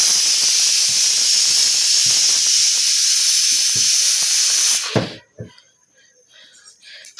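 Potatoes fry for aloo dum in a pan with a loud, continuous sizzling hiss that cuts off suddenly near the end, followed by a few scattered clatters and quiet background.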